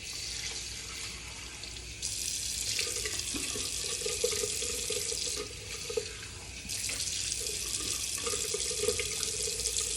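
Bathroom tap runs into a sink while a face is rinsed before a wet shave, a steady splashing rush that swells and eases as hands move under the stream, heard fairly close and alone.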